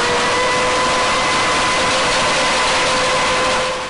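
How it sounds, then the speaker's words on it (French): An armoured chain conveyor runs in a coal mine, giving a loud, continuous mechanical roar with steady tonal hums. It sounds close, with no pauses and no voices. "Après le couloir oscillant, fut installé le convoyeur blindé, plus efficace, mais toujours aussi bruyant."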